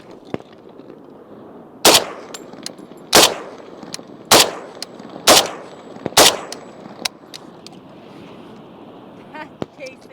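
A Russian Dragunov rifle fires five sharp, loud shots spaced about a second apart, each followed by ringing, with a spent casing striking the camera amid lighter clicks and handling noise in between.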